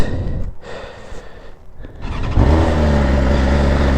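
A 2024 BMW S1000RR sport motorcycle with a stock exhaust idles unevenly on a cold start, then catches and settles into a loud, steady running drone close by.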